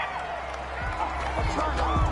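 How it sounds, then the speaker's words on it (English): Home football crowd at an NFL game between the 49ers and Seahawks reacting to a referee's call, a broad, steady roar and cheer filling the stadium with a commentator talking over it. "This home crowd, they're happy with that call."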